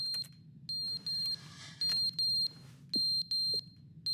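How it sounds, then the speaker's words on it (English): A button in the video game The Stanley Parable giving off a sharp, high electronic beep, repeated in short even pulses with brief gaps, close and clear over a low ambient hum. "The beeping is coming from the button."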